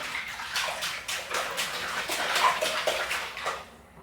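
A child splashes water in a bathtub while pretending to swim, giving a run of repeated sloshing splashes close by that fade out at the end.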